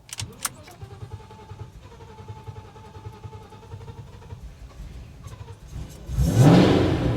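A 1,000-horsepower Shelby GT500 that is reluctant to fire up cranks with a rhythmic starter whir and then catches, ending in a loud burst of engine noise close by. No one speaks.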